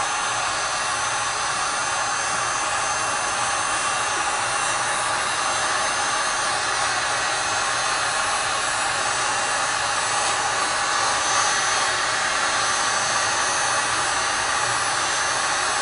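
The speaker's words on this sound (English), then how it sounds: "We can do that with a heat gun." A heat gun heating iPhone 4 trim adhesive gives a steady, loud blowing roar of hot air without a break, a constant hiss-like whoosh with no voices.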